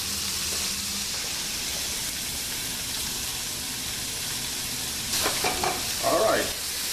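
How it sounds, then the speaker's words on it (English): Bell peppers, onions and garlic sizzle steadily in a hot pan, a constant frying hiss, with clattering utensil sounds and stirring toward the end. "While the bell peppers and the onions and garlic is cooking"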